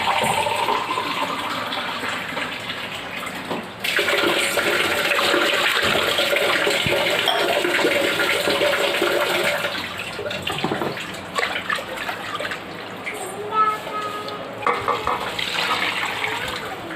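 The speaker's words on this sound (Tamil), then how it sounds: "மிக்சர் எடுத்து அப்படியே அலசி விட்டுக்கிறேன்" Running water gushes and swirls for a long stretch, splashing and sloshing inside a mixer jar as it is rinsed while making mutton biryani, then eases into lighter trickles and clinks.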